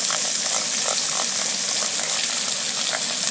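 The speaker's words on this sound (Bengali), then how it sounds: "নুন দিয়ে একটু সর্ষেটাকে ফেটিয়ে নেবো" Mustard paste being whisked with salt for a parshe fish curry, a steady loud wet churning and scraping that runs continuously with small rhythmic bursts from the whisking strokes.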